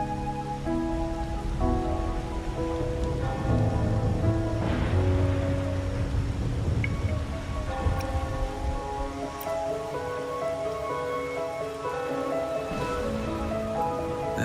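Rain falls steadily in the Wuthering Waves video game, a continuous soft patter on surfaces under a loud, sustained tonal music bed, with no voices.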